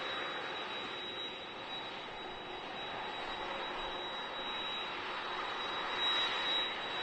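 Airliner jet engines roar at Manchester Airport, a steady, distant broadband rumble with a faint high whine throughout, swelling slightly near the end.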